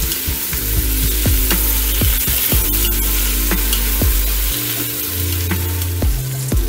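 Tomato sofrito frying in a hot pan, a steady close sizzle with repeated knocks of a utensil stirring against the pan.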